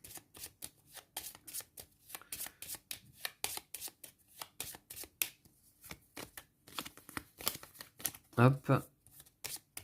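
Cards from an Aeon's End deck being shuffled by hand, a series of crisp, rapid riffling bursts, close and clear, with a person speaking briefly between them.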